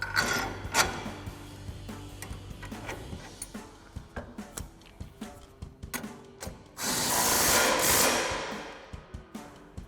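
Ratchet clicking as a 21 mm track bar bolt is tightened on a RAM 1500 with a coil-over lift kit: rapid runs of sharp metallic ticks in short bursts, close by, then a longer steady whir of spinning near the end.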